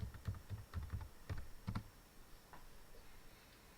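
Typing a username and password on a computer keyboard: a quick series of soft, close key clicks, then a few sparse taps fading into quiet room noise.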